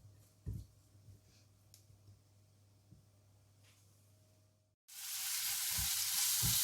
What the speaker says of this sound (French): je laisse mijoter plus ou moins 3-4 minutes